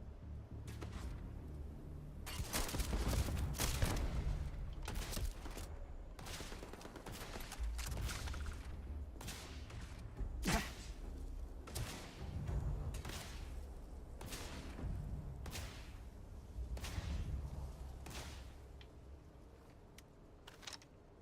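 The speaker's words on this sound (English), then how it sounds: "Who's shooting me?" Rapid bursts of gunfire from the space shooter Starfield crack repeatedly over about twenty seconds, sharp shots clustered in volleys with brief gaps, loud and close, with no talking.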